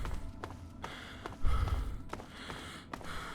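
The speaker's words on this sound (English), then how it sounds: "sometimes the breathing can get a bit annoying if you're running lots" Heavy, rhythmic panting of a sprinting character in Fallout 3 with a sprint mod, a steady series of close breaths with a stronger gasp near the middle, faint footfall taps beneath.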